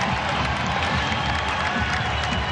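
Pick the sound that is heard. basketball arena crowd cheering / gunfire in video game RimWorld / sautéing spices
basketball arena crowd cheering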